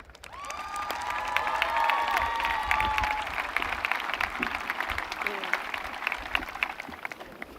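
A large audience at Summit High School's 2023 graduation ceremony bursts into sustained applause with cheering and shouts, building in the first seconds, then holding steady and dense throughout.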